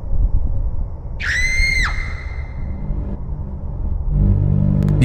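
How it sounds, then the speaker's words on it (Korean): A girl's high, wavering scream rings out in the Ao Oni horror game, lasting under a second over a low rumbling background, which swells again near the end. "미카의 비명 소리를 듣고 급하게 달려가는 히로시."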